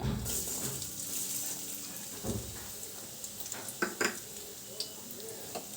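Chopped onions sizzle steadily in a little hot oil in a pan while a spoon scrapes and stirs them, with a few sharper clinks of utensil against the pan toward the end.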